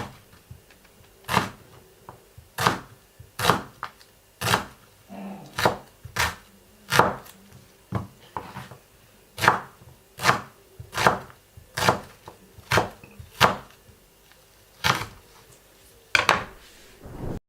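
A knife chops an onion on a cutting board in a kitchen, giving sharp, crisp, evenly spaced strikes close by, roughly one to two per second, with no talk.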